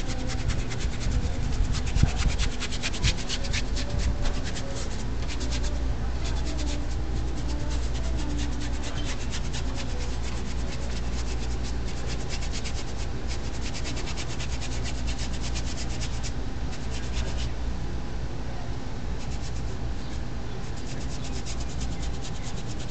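A brush scrubs paint into canvas for a Hawaiian valley sunset scene, making a steady dry rubbing that runs close and continuous throughout with no talk.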